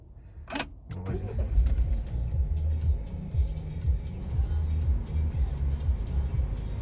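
Opel Zafira minivan engine cranks and catches after a brief click, then settles into a steady low idle rumble that runs close and even to the end, with no talk over it.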